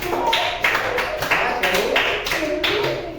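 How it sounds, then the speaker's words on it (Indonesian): A primary school class claps in unison to applaud a student, producing loud rhythmic bursts of hand claps in a steady repeating pattern, with a teacher's voice blended in. "Danu, kasih tepuk tangan buat Danu biar majunya semangat."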